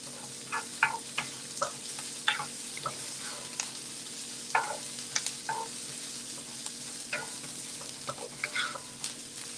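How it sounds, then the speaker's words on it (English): Chopped onion fries in a pan for a bean and veggie burrito, a low steady sizzle broken by frequent light scrapes and taps of a utensil stirring, fairly quiet with no talk. "When you are frying the onion like this, just sprinkle a little bit of salt on them."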